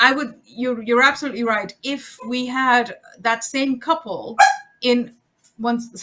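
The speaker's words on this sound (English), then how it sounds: "I'm sorry, that's my dog." A pet dog barking indoors during a conversation, short sharp yips heard between and under a person's talking, fairly close and intermittent.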